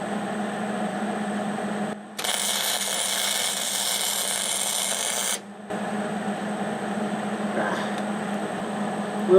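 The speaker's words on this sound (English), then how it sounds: "Alright, welding." Welding on the steel rim of a Kubota L3301 tractor tire by a first-time welder: a harsh, steady arc hiss-buzz lasts about three seconds, sharply starting and stopping between stretches of quieter background hum.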